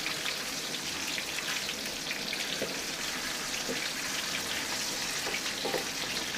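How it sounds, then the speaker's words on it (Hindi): Chicken kofta frying in a pan, a steady dense crackle and hiss of hot oil, even and continuous at moderate volume with occasional louder pops. "तो ये दूसरी साइड पे हम जो कोफ्ते हमारे वो फ्राई कर रहे हैं"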